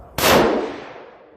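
A single sharp gunshot from a Weatherby Meat Eater .308 Win rifle, a loud close crack followed by a long fading echo.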